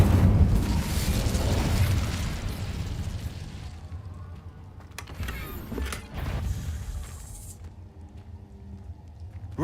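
Incendio fire spell cast in Hogwarts Legacy, a close, roaring fiery burst that rumbles for several seconds, then fades and is followed by creaks and mechanical clunks.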